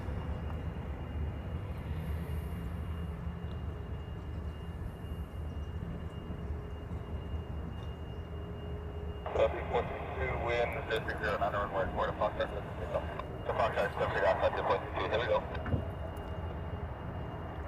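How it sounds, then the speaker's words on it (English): A Jetstar airliner approaches at Honolulu, Hawaii: a steady distant engine rumble that swells into louder broadband roar partway through, with no voices. "looks like we have Jetstar heading this way"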